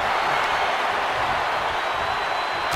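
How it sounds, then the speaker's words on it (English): Wrestling video game arena crowd cheering, a dense continuous roar of many voices, loud and unbroken, with no distinct words. "The sound of this crowd is deafening"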